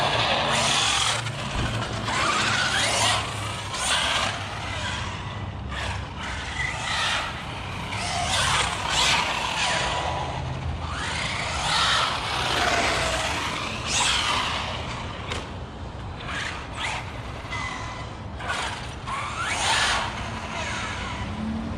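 A Losi Super Baja Rey RC car fitted with a Max 6 system drives outdoors, its electric motor whining and surging in repeated bursts as it accelerates and turns, with tires scrabbling over the ground close by.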